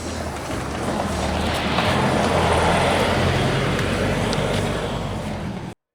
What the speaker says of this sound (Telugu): ఈ రోడ్లో కూడా బస్సులు వస్తున్నాయి